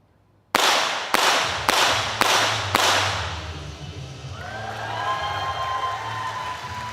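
Five sharp, loud pistol shots crack in quick succession in a 25m rapid fire pistol junior men's final at an indoor range in New Delhi, each with a short echo, followed by a lingering hall ambience and crowd murmur.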